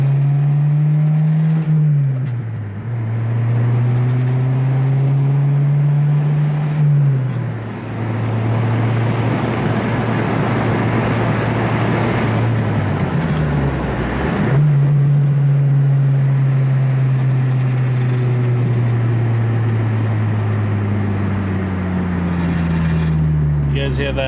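An Acura RSX Type S engine drones steadily from inside the car, climbing in pitch through the gears and rising in intensity as the VTEC engages, with road noise underneath and a few voices talking.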